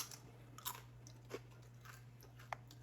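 A crunchy, salted tortilla chip is bitten and chewed up close. Sparse crisp crunches come every half second or so, fairly quiet over a faint steady hum.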